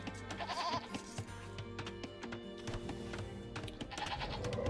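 Goats in a video game bleat in short, nasal calls over busy game sounds and clicking. The calls are moderately loud and repeat a few times across the stretch, with no speech.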